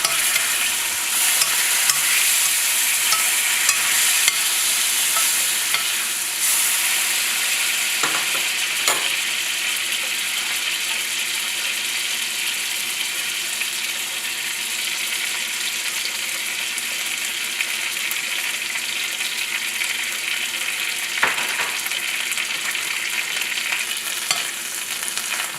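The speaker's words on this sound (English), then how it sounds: "Use a spoon to baste the salmon as it continues to cook." Salmon fries in a pan with soy sauce as a spoon bastes it, giving a steady, close, even sizzle throughout with a few faint scrapes and clinks of the spoon.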